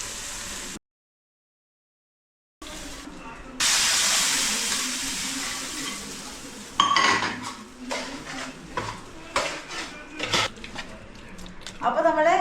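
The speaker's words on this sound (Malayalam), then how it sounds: "അപ്പോൾ ഇതിന് ഇച്ചിരി കടുക് വറുക്കാം." Mustard seeds splutter and hiss in hot oil in a kitchen while beef liver roast is being cooked, a steady loud sizzle broken by sharp crackling pops and clinks of utensils.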